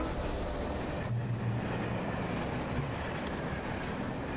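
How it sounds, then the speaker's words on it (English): Train rumbling past in the video game Alan Wake, a steady low broadband roar with faint rail clatter, moderately loud and continuous throughout. "Is that a train?"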